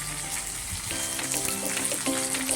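Oil poured into a hot pan with garlic for a safflower-leaf dish sizzles steadily and fairly loud, with a continuous crackling hiss throughout.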